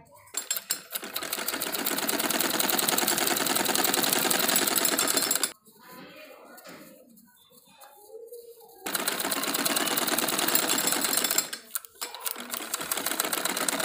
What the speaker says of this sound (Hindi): कपड़े को इसके ऊपर दोनों तरफ से फोल्ड करके एक कच्ची सिलाई इसके ऊपर लगाएंगे